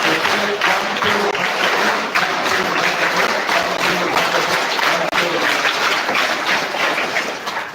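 A group of schoolchildren claps together at an International Yoga Day school event, many hands beating in a steady repeating pattern, loud and continuous throughout.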